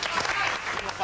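A studio audience applauds a band on a television music show, a dense steady burst of clapping lasting about a second.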